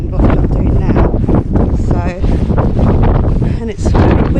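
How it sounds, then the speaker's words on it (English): Strong wind buffeting a microphone on Berry Head headland in Brixham, a continuous loud roar with gusty swells, close and rough throughout. "And it's very windy here."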